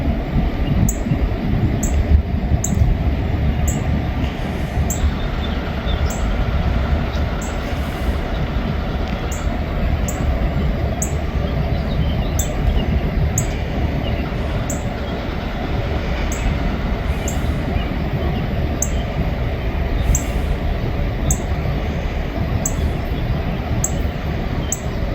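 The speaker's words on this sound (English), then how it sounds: "it looks like a coal train, folks" A southbound coal train rolls past on the track, a loud continuous rumble of heavy wagons with rhythmic wheel clicks and faint high squeal, sustained steadily from start to finish with no talk.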